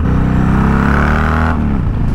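A 124ci Harley Dyna engine revving loud and close, a deep throbbing rumble that holds steady, then drops as the throttle eases off.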